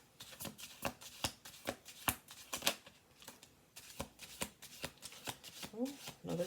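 Close, crisp riffles of a tarot deck shuffled by hand in repeated quick bursts, with a voice speaking briefly near the end.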